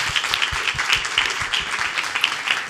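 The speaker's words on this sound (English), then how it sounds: "We'll ask you to give our panelists a round of applause" An audience at a policy forum panel applauds the panelists, a steady, dense patter of many hands clapping close by, with a few murmured voices underneath.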